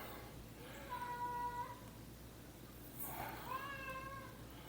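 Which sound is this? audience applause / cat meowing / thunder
cat meowing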